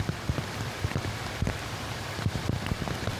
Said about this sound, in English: right now there's still steady rain happening